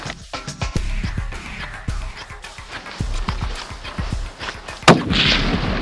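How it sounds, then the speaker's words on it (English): Rapid, uneven volleys of gunshots ring out outdoors, a sharp loud crack near the end followed by denser popping and rumble, with no talk over them. "Come on, shoot it. Shoot again."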